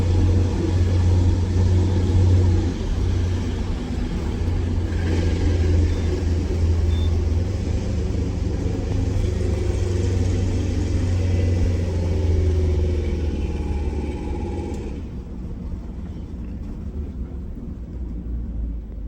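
Prevost bus diesel engine running while driving, a steady low rumbling drone that drops in level near the end, heard from inside with no talk.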